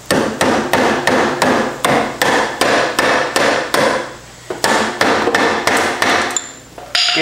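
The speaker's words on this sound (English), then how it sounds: "This is a very soft mallet. I'm hoping that I can" Repeated blows of a very soft mallet striking a brake caliper or drum on a neglected Honda Foreman 450 ATV, about a dozen sharp, evenly paced hits in two bursts, close and loud, with no talking.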